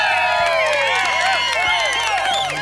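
Volunteers at a newly built community tennis court cheer and clap, an excited burst of whoops, high shouts and applause from a nearby group of kids and adults.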